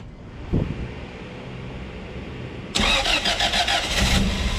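Honda Integra with a B18C1 engine cranking and catching on the first try: brief starter whir, then a sudden loud burst into a rough, close idle with slight revving.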